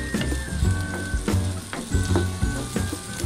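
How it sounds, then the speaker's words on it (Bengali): Onion and green chili frying in a little oil in a wok, a steady close sizzle broken by several stirring scrapes and clacks, with no talking. "পেঁয়াজ আর কাঁচামরিচ দুইটা একটু একসাথে করে ভেজে নিব।"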